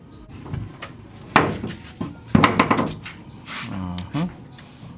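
Hammer blows drive nails into a wooden bed frame, landing as a few sharp, loud knocks spaced irregularly among quieter wooden clatter and handling noise.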